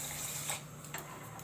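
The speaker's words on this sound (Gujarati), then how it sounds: "ખાંડ ડૂબે એટલું પાણી આપણે આમાં નાખવાનું છે." Water is poured onto sugar in a pan while making adadiya pak, giving a quiet, brief splashing trickle that lasts about a second and a half.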